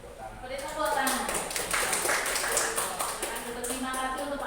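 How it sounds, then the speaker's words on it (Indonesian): Hands clap in a school setting, a group's sharp claps sounding close and steady over several seconds, with voices talking underneath. "Beri tepuk tangan."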